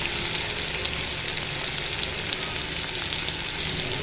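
Garlic paste fries and is stirred in a pan for a fish curry, giving a steady, close, dense sizzle with faint scraping of the spoon throughout, no voices.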